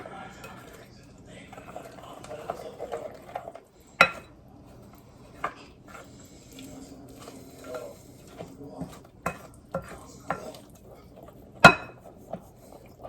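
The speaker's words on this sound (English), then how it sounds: "Give it a stir. I'm going to stir it after every cup." Sourdough sandwich bread dough being stirred in a bowl, with scattered soft scraping and sharp clinks of a utensil against the bowl rim, mid-level and close, a few louder knocks standing out.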